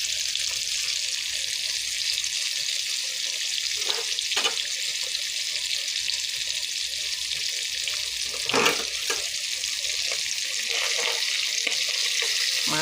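Fish fries in a pan of hot oil with a constant, fairly loud sizzling hiss, and a few sharp clinks and scrapes of a spatula stand out over it.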